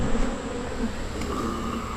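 Honey bees pour from the entrance of a hive that has just been moved, making a steady, dense buzzing hum that stays close and moderately loud the whole time, with no voices.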